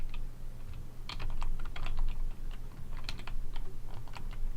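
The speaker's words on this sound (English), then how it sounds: "I'm done typing it." Rapid, steady clatter of keystrokes on a computer keyboard, close and fairly loud, with irregular bursts of taps running the whole time and no voices.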